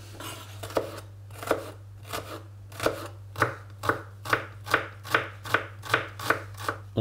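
Half a shallot is chopped on a board with a knife, giving about a dozen crisp, close knocks that speed into a quick, even rhythm over a faint steady background hum.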